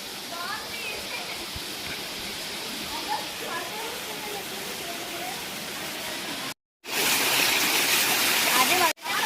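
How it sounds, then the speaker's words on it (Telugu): A waterfall on a hillside near a Shiva temple pours in a continuous loud roar of rushing, splashing water, broken by two short gaps. "చూడండి ఫ్రెండ్స్ ఇక్కడైతే మంచి అద్భుతమైన వాటర్ ఫాల్ ఉంది"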